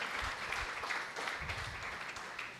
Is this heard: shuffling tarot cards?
no